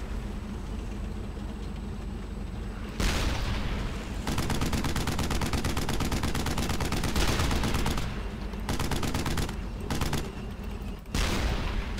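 Sustained rifle and machine-gun fire from the player in Brothers in Arms: Hell's Highway, loud and continuous, broken by a few short pauses, over a constant wartime battlefield rumble with no talk.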